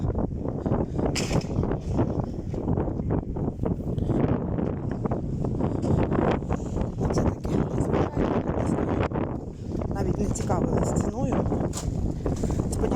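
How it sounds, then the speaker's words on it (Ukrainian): Wind buffets the microphone with constant rumbling gusts while a person talks through the noise. "сподіваюся, що мене чутно через цей вітер."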